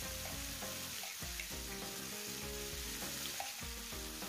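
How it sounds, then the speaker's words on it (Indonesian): Ground spice paste sautés in hot oil for sambal goreng kentang, giving a faint, even sizzle with a tonal background running underneath. "Dan tumis sampai bumbunya ini mengeluarkan aroma ya, atau sampai bumbunya wangi."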